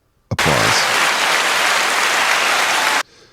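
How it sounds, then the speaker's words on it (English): A sudden burst of loud, dense audience applause at a live Mardi Gras show, holding steady for under three seconds before cutting off abruptly. "Let's go with some applause."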